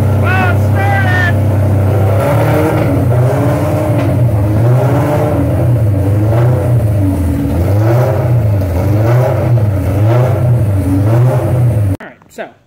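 A 1979 Suzuki GS750 motorcycle running with an open header after a dead-battery start, loud and close, its rough engine note surging and dipping in steady waves, then cutting off abruptly near the end; a voice speaks briefly at the start.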